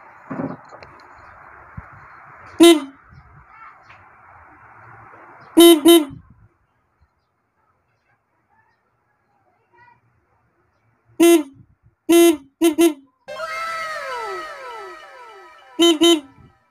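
Sharp, loud honks from a motorcycle horn come in short bursts: a single toot, a quick double, then a rapid cluster of three or four, followed by a final pair. Someone talks between them.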